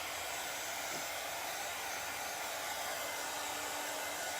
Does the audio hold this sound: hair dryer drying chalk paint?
yes